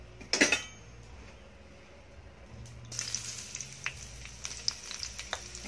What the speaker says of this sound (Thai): น้ำมันเริ่มร้อนแล้วเราก็ใส่กระเทียม